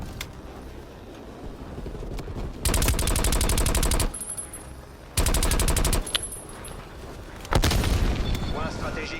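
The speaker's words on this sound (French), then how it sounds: "Il y a des coups de feu." Gunfire in the video game Call of Duty Black Ops Cold War, several loud sustained bursts of rapid automatic fire with brief gaps between them, over low background game noise.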